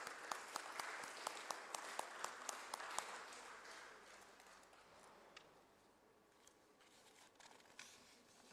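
Applause rings out at a stock exchange listing ceremony for Fascinate Textiles Limited, starting as a steady clatter of many hands mixed with sharp individual claps, then tapering to sparse, faint claps under a quiet room.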